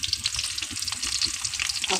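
Onion frying in hot oil in a wok on a gas stove for a Bengali rohu fish head dish, a steady close sizzle with soft stirring scrapes throughout, no talk.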